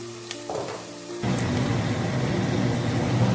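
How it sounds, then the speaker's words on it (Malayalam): Onions for a Kerala-style fish head curry start to sauté in a pan with a sudden loud hiss of frying that then holds steady, after a brief quiet clink of utensils. "ഉള്ളി നന്നായിട്ട് വഴറ്റിട്ട് ഒരു 1/2 ടീസ്പൂൺ ഉപ്പ് ഇട്ട് കൊടുക്കുക"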